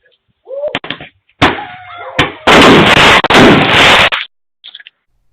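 A loud, close explosion effect stands in for the Big Bang. Sharp cracks and bursts lead into a sustained roaring blast of about two seconds, which then cuts off into near silence with a faint trailing rumble.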